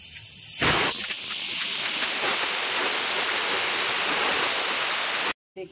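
Water heating in a pot on the stove for making rice papad gives a steady, loud broadband hiss that starts abruptly and holds evenly for about five seconds before stopping.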